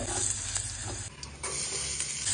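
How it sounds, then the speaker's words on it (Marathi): Garlic, asafoetida and turmeric tempering in hot oil for a fenugreek leaf dish, a loud close crackling sizzle with brief stirring scrapes and no voices. "आता फोडणी करू मोरी हिंग हळद"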